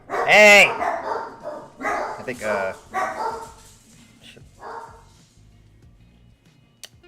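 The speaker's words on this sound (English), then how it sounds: "Sorry for the dog's interruption." A dog barks loudly a few times right at the start, followed by someone speaking over a quieter room.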